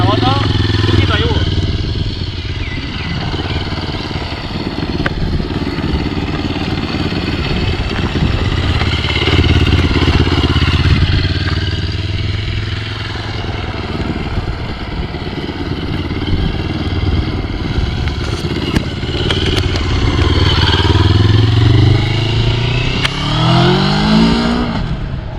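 A CFMOTO 650 MT motorcycle engine runs steadily close by with a low, throbbing tone, swelling into a rising rev near the end, while someone talks over it.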